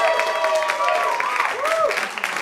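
Improv comedy tournament audience at Arcade House applauds the venue staff, a short stretch of steady clapping under whoops and voices.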